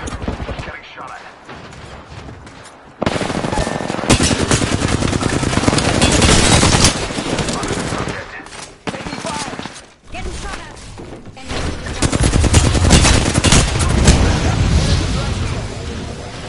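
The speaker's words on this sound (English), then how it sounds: "Getting shot at." Rapid automatic gunfire and heavy bursts in a video game shooter, loud and close, coming in dense volleys with short lulls between, while voices talk over the shooting.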